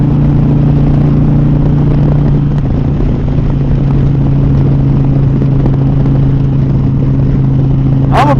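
An Indian Pursuit motorcycle cruising on the road on a warm, breezy day, its engine droning in a loud, steady low hum with wind rush throughout, and no voices.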